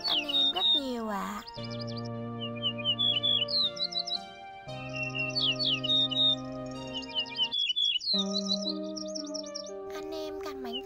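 Sẻ Đồng Vàng and Lá Rụng birds give flock-calling songs, bright whistled phrases of rapid chirps and sustained tones repeating one after another, loud and close with brief gaps between phrases.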